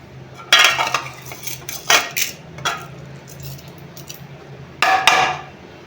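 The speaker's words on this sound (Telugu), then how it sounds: "ఇప్పుడు ఇందులో పప్పు అయితే వేస్తున్నాను" Moong dal tipped into a cooking pot for sweet payasam, giving several loud clattering, rattling bursts against the metal with pauses between and a low steady hum underneath.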